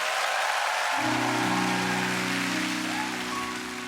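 A crowd claps steadily throughout at a TV music show, and sustained musical tones join in after about a second and continue under the applause as a song begins.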